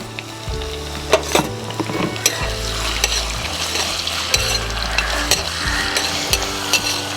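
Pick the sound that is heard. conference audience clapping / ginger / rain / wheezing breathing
ginger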